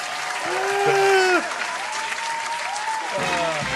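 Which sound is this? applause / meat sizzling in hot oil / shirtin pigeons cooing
applause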